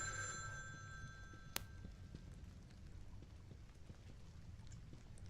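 A telephone bell rings for about a second and a half in The Evil Within 2, a steady metallic ring over low rumbling ambience, then stops, leaving only quiet background noise.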